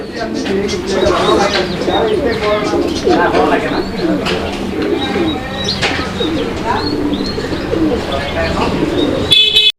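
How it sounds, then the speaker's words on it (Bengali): Pigeons coo and flutter throughout at a busy pigeon-selling farm where a pair of black Lahori pigeons is shown. The calls are loud and run under constant talking nearby. "এখানে আরও এক জোড়া লাহোরি কবুতরের কালেকশন আছে"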